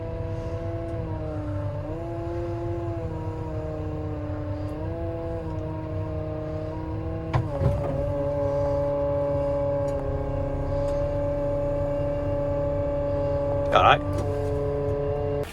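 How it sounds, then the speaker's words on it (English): A combine harvester being manoeuvred inside a farm shed, its engine droning steadily with a few rises in pitch and clanks, while someone speaks briefly. "Just move the combine over in the shed, getting it tight to the corner there."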